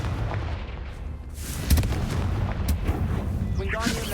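Confringo fire spell blasts in Hogwarts Legacy, sharp booming impacts over a rumbling battle backdrop, with a voice speaking briefly.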